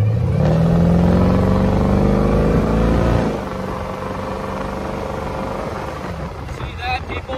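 A 350 small block Chevy V8 in a 1932 Ford roadster revs loudly up close, its pitch climbing over about three seconds before dropping back to a rough idle, followed by a few faint clinks.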